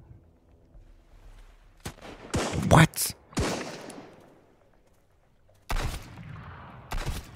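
Gunfire in the survival video game Sunkenland, several loud sharp shot bursts in two clusters with quiet gaps between, close and punchy, with a brief spoken word among them.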